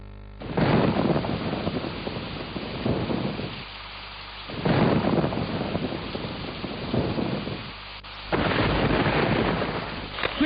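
Heavy rain pours steadily while loud rolling thunder rumbles in several long waves, close and powerful.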